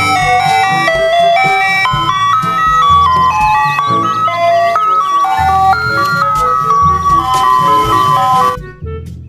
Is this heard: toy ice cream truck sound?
yes